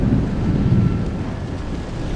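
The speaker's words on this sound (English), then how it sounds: "it began to thunder, and the skies became dark" Low rumbling thunder as skies darken over a sea cliff with crashing waves, a steady, loud, broad roar filling the whole moment without any talk.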